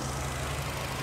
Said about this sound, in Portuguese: Aqui o motor em funcionamento já.